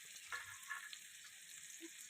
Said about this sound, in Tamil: பீன்ஸ் எல்லாம் சேர்த்து இது எல்லாமே ஒரே இதாக வதக்கிடுறோம்